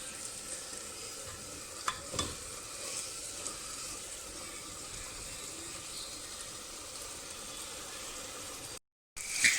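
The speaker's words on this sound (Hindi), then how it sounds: "जब तक तेल, ऑयल सरफेस के ऊपर नज़र नहीं आए तब तक हम लोग को इसे भूनना है" Spice masala for dal gosht fries in oil in a pot, a soft continuous sizzle with stirring scrapes and a few louder clicks, alone and fairly quiet.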